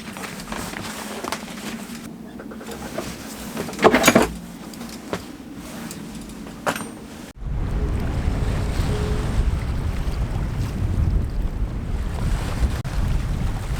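Strong wind in high winds near 50 knots roars and buffets around a sailboat, with gusty rushing noise, rigging rattles and a heavier, steady blast in the second half.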